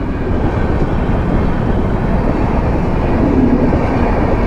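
Laxmibai Express passenger train rolling past at a station, a loud, steady rumble of wheels and carriages that stays dense and continuous throughout.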